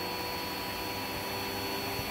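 A vacuum cleaner runs in a living room with a loud, steady whine and airy roar, unbroken and close for the whole stretch, with no voices.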